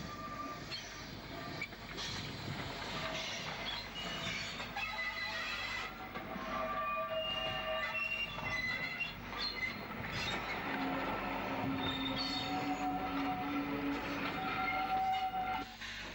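A train on the Isle of Wight rolls in on single-line track with steady rumbling, wheel squeals and metallic screeches over the rails, continuous and fairly close throughout.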